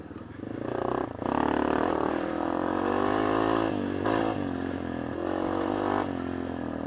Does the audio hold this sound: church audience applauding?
no